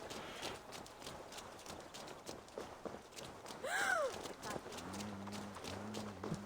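A horse trots through a city in Assassin's Creed Valhalla, its hooves clip-clopping steadily, with a brief whinny midway and soft game music tones joining near the end.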